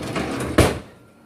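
Bottom kitchen drawer opened with a single sliding rumble and a soft thud as it stops, close, brief and alone.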